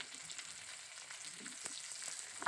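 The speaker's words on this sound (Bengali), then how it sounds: "আবারও আমি ভালো করে কষিয়ে নেব" Onion with ginger-garlic paste, chopped tomato, chili powder and turmeric sautéing in a pan for chickpea ghugni, a faint steady sizzle with a few soft stirring scrapes near the end.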